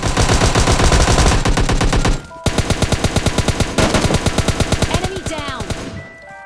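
Loud, close automatic gunfire from a video game battle rattles in rapid sustained bursts with brief gaps between them, the rounds firing in a fast even rhythm before tapering off at the end.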